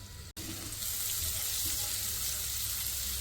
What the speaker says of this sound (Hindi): थोड़ा सा इसको भून लेंगे लहसुन को, ताकि इसका कच्चापन दूर हो जाए